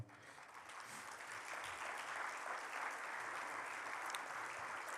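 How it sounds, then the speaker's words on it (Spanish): A church congregation at a Spanish-language service breaks into steady applause, a dense wash of many hands clapping that swells in the first second and then holds evenly, moderately near. "¿Qué le parece si le damos un aplauso al Señor?"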